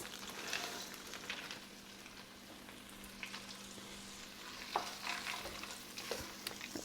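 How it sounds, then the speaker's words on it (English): Frozen peas and carrots added to a pot of chicken pot pie soup, a steady soft sizzle with scattered stirring clatters and faint scraping, no talking. "Okay, I'm going to add one small bag. It's 12 ounces of frozen peas and carrots."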